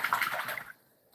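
A goose splashing in a tub of water, a short burst of close sloshing and splatter that quickly fades into quiet.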